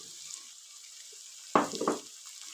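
Chopped tomatoes land in a hot pan for Karachi-style degi aloo gosht, giving a sudden wet splash and a short crackling sizzle that fades within half a second over a steady background hiss.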